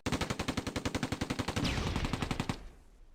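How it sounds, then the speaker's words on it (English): A tank's machine gun rattles off a rapid, steady burst in a combat game pitting a 17-pounder anti-tank gun against a Mark IV, then a heavy cannon boom from the 17-pounder cuts in and rumbles away before fading. "The 17-pounder is firing, but missing."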